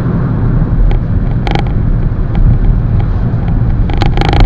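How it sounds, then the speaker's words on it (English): Loud, steady low road rumble from inside a moving Volkswagen Jetta, with occasional brief rattles and clicks cutting through. "A lot of noise from the road, to be honest."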